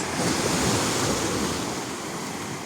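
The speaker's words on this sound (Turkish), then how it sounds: "Bu dalgaların sesi adeta insana müzik gibi gelir biliyor musunuz?" A wave breaks on the shore of a quiet cove in Fethiye, Turkey, with a rushing surge and then slowly recedes, a broad steady wash of surf with some wind, no talking.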